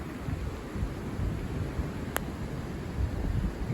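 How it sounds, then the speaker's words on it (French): A strong gust of wind during storm Eowyn buffets the microphone in a steady, rumbling roar, fairly faint overall, with a brief sharp crack midway. "Donc c'est du coup de vent, littéralement un coup de vent."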